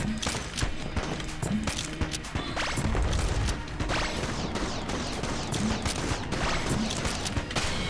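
Rapid, continuous bursts of fire from the scrambler gun in the dungeon shooter Enter the Gungeon, dense and loud throughout, mixed with impacts, crashes and other game effects during a boss fight.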